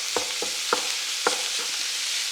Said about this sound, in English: Keep stirring it around. You're waiting for all that meat to brown